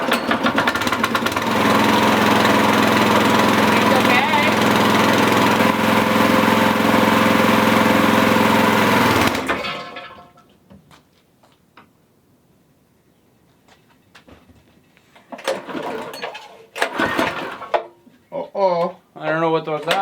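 A small engine on a homemade mini tractor with hydraulics runs loud and steady for about nine seconds, then cuts out, followed by clatter and short mechanical bursts.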